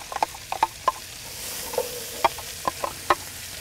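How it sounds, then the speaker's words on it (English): Chopped white onion sizzling in hot bacon fat, cooked outdoors for chili on a Big Green Egg grill, with a steady frying hiss and scattered pops and stirring clicks. "Now I've got that nice hot bacon fat ready to go. I'm going to add in one big white onion,"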